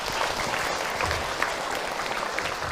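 Audience applause at an Islamic religious talk, a dense, steady wash of clapping that fills the whole short stretch at an even level.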